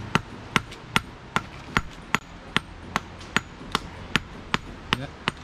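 Steady, evenly spaced metallic taps of a small hammer striking a silver ring, about two per second, crisp and close with faint background noise.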